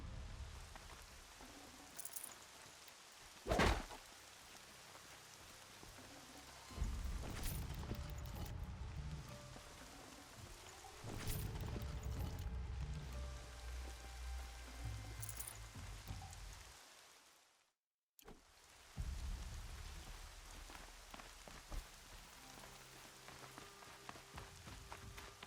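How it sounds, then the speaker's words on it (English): Rain falling in the video game Horizon Zero Dawn, a soft steady patter on surfaces with heavier rumbling and a brief dropout near the end, quiet throughout. "More rain. My boots will get damp."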